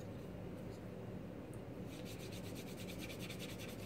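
A slicker burnishes a leather edge by light friction, making a soft steady rubbing rasp with faint repeated strokes that grow quicker and more rhythmic in the second half, close up with no speech.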